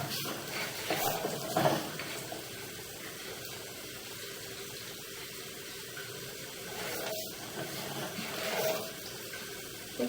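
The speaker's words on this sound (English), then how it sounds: "we do have some water flow on at this point" Water flowing through a pipe line with heavy scale buildup, a faint steady rushing hiss with a few soft splashy surges.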